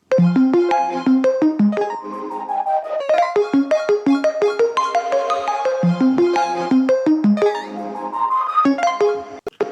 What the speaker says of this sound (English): But then everything together, these plucks sound like this.